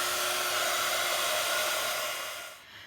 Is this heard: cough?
no